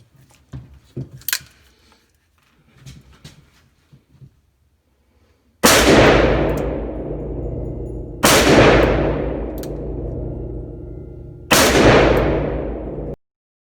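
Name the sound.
gunshots from Smith & Wesson 460XVR revolver with Bushnell scope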